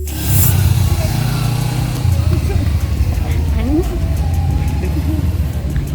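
Big motorcycle rumbling at low revs on a film set, a close engine thrum that rises and settles, under continuous talking.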